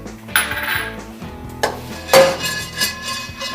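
Pine nuts, about four tablespoons, tossed into a heated frying pan, giving a few bright clattering and rattling hits against the metal, close and fairly loud, with no voices.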